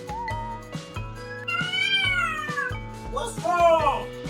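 A talkative house cat meows loudly and close by in long, drawn-out, wavering calls, one after another, that rise and fall in pitch and sound almost like speech.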